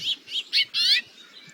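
Series of house finch calls, a few short chirps followed by a longer buzzy note that slides upward, close and clear with no voices.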